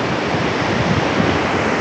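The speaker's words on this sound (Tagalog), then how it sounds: "Mas kita-kita nyo yung eto. Yung agos ng tubig." River water flowing beneath a cable hanging bridge in a forest in Quezon Province, a loud, steady rushing wash that fills the whole stretch with no pauses.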